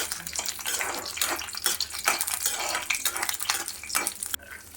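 Dried red chillies fry in two tablespoons of oil in a kadai, giving a steady close crackling sizzle with brief stirring scrapes, loud and continuous with no voices.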